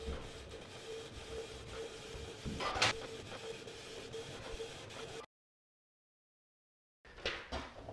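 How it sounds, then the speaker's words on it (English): A Canon Pixma TS3420 printer prints a page, giving a steady mechanical whir with a sharper sliding rush midway. A brief silence follows, then the motor noise resumes. "the printer will start printing"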